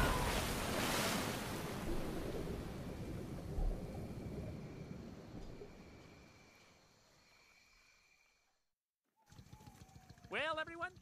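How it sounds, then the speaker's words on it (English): Roaring waterfall in an animated safari ride: a broad, steady rush of water that fades over about eight seconds and gives way to silence, then a few chirping calls. "It's a waterfall."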